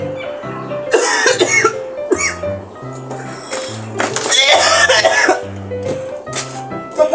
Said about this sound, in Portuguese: Tô com uma tosse tão forte.